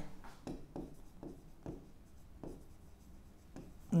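Someone writes on a board during a physics lecture. About seven distinct scratchy strokes come in an uneven rhythm, close and fairly quiet, with no talking over them.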